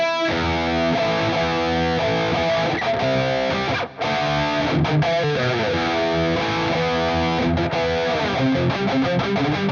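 A loud, heavily distorted high-gain electric guitar riff chugs along in tight, palm-muted bursts, with a brief drop-out near the middle before the riff resumes.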